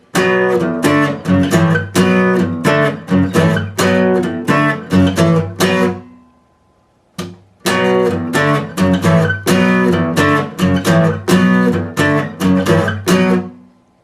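Electric guitar strums the chorus chord progression of a song in rhythmic bursts, loud and close, with a short pause midway before the chords resume.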